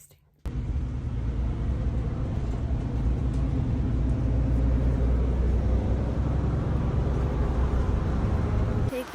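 Steady traffic roar of cars streaming past on a Swiss roadway, a continuous loud low rumble that starts abruptly and holds without a break, with faint voice traces mixed underneath.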